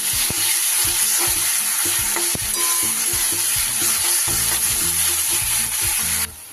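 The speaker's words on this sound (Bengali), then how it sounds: "ভালো করে কষিয়ে নেব যতক্ষণ না কাঁচা মশলার গন্ধটা যাচ্ছে।" Ginger, garlic and green chili paste frying in a pan for mutton curry, a loud continuous sizzle with repeated stirring scrapes and clicks, heard alone.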